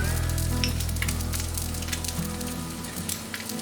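Eggs and potatoes fry in a glass Visions skillet with a steady, close sizzle and crackle, plus faint scraping from a spatula, no talking.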